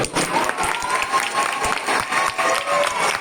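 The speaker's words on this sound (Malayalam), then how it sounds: "ഈ കയ്യടികൾ ഒരിക്കലും പിണറായി വിജയൻ സാർ എനിക്കല്ല തരേണ്ടത്" An audience at a school event applauds, a dense steady patter of many hands clapping close by, with crowd murmur underneath.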